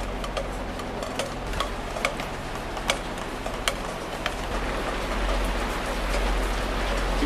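Steady rain patters on a catamaran's hard surfaces, with scattered louder drops ticking at irregular intervals over a constant wash.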